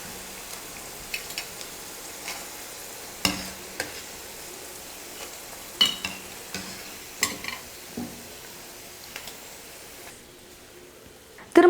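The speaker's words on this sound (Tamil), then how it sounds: "கொஞ்சம் கொஞ்சமாக நம்ம எடுத்து எண்ணெயில் போட்டு பொரிச்சு எடுத்துக்கலாம்" Onion pakoda fritters frying in hot oil, a low steady bubbling with scattered sharp clinks and taps, growing louder at the very end. No one speaks.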